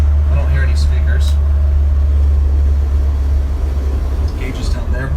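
Loud, steady low rumble of a 1970 Alfa Romeo Giulia Super 1.6 engine from inside the cabin while driving, with faint knocks and rattles.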